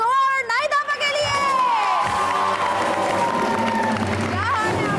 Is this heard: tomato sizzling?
no